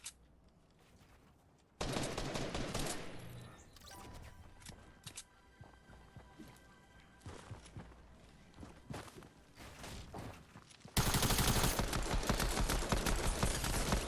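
Fortnite gunfire comes in rapid bursts and scattered single shots with thuds, fairly quiet at first, then turning much louder and denser toward the end, with no voices.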